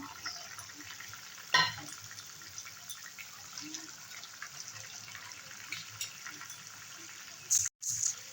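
Fried small fish are tipped into a pan of cooking potatoes with a brief clatter, followed by a low, steady sizzle and a short clunk near the end.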